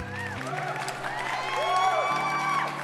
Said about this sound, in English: Big round of applause for the people in the chat,